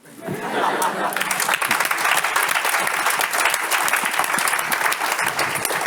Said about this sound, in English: I'm going to leave that 5 seconds for the applause